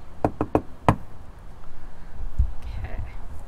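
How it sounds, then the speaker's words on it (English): Four quick knocks on an RV door in a Tour Alliance Valor 42V13 setting, close and crisp, followed by rustling and a low background rumble as rain falls. "I'm gonna go ahead and knock to let Chris know."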